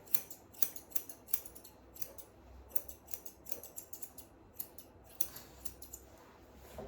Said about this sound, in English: I'm going to trim all this off.